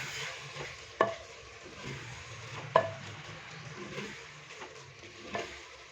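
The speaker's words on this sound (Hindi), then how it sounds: "सब्ज़ धनिया डालने के बाद अभी हम इसको अच्छे से मिक्स करेंगे।" Cabbage and peas curry with fresh coriander being stirred in a pan, soft scraping and mixing with a few sharper spoon knocks against the pan over a quiet background sizzle, no voices.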